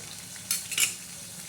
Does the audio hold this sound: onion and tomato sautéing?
yes